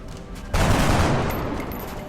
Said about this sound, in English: So we're just going to play it safe and shoot this guy.